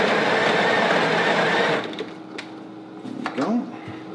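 A Breville Barista Express espresso machine working through a shot: a loud, dense grinding roar for the first stretch, then a quieter, steady pump buzz with a few clicks and knocks.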